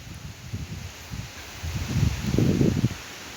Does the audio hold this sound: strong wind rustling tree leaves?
yes